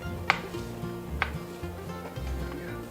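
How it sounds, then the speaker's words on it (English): Fresh basil chopped with a knife on a board: a few sharp, distinct taps spaced about a second apart, close and clear, over a low steady background hum. "And just give them a little chop that way"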